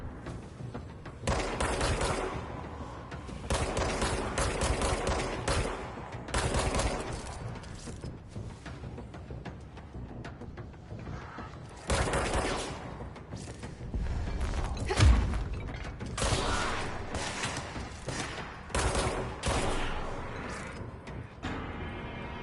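Gunfire in the video game Control, with repeated bursts of rapid shots interrupted by short pauses, mixed with mechanical creaks and thuds, fairly loud and continuous throughout.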